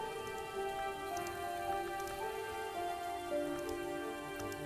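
Rain from the video game Book of Hours patters steadily under sustained tonal musical drones, soft and continuous with scattered drop ticks, no talk.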